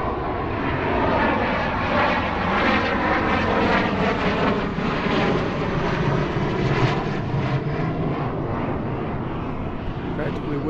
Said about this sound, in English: jet going really slow